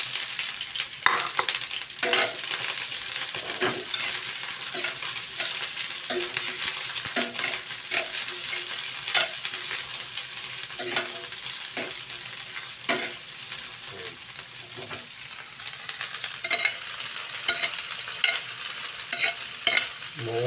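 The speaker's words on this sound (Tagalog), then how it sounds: "Of course, ayaw kasi masunog yung bawang at saka sibuyas." Garlic and onion sizzle steadily in a pan at close range, broken by repeated scraping stirs of a utensil throughout.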